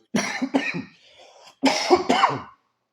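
A person coughs and clears their throat in two rough bursts, close and fairly loud, with a brief pause between them.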